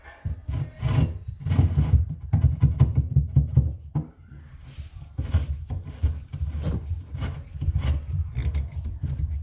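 A steady grinding, rasping sound of a long drill bit turned slowly by hand through wood, close and continuous with slight pauses and changes in pressure.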